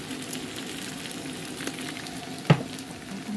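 Eggs fry in a pan with a steady close crackling sizzle throughout, with a single sharp clink of utensil or pan partway through and no voices.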